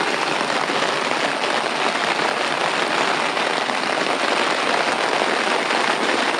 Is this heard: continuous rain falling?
yes